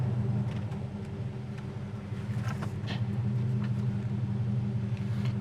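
Engine of a 1970 Chevelle idling after a test drive, a low, even V8 rumble from inside the car, steady and close with faint background noise.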